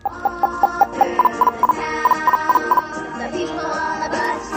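Loud playback from a Toniebox speaker at full volume: a bright, repeating melody of quick staccato notes mixed with clucking, chicken-like sounds.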